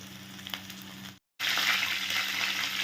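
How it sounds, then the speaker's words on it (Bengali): Spices and grated ginger fry in a pan with a close, continuous sizzle and faint stirring, cut by a brief full silence before the frying returns louder and brighter. "সুন্দর করে প্রত্যেকটা জিনিস দেখো ভাজা হয়ে গেছে"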